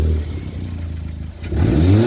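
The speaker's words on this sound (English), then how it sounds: "this is what it sounds like when the recirc valve is messed up" A Vauxhall VXR engine with a faulty turbo recirculation valve revs up close and loud, a brief rising whirring rev climbing sharply near the end.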